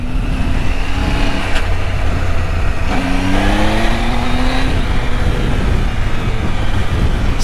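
A Triumph Tiger 800 motorcycle engine runs steadily while riding, its mid-range drone rising and falling with a couple of short revving swells under constant road and wind noise.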